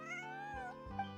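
A cat meows in the video game Genshin Impact, one drawn-out, wavering meow followed by a shorter one, clear and close, with no talk.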